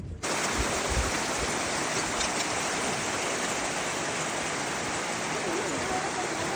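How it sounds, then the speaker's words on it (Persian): A mountain river flowing fast at the crossing point on the way up Kholeno peak, a dense, loud, continuous rushing roar that starts abruptly and holds steady, with no voices heard. "بازم عبور از رودخونه رو داریم"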